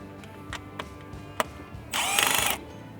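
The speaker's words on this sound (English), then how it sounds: "there's a 7mm bolt, and that's securing the tether in place to the piece of airbag trim. So we'll remove this bolt" A power tool whirs in one loud, close burst of about half a second, removing a 7mm bolt that holds an airbag trim tether on a 2021 Ford Bronco, after a few light clicks and taps.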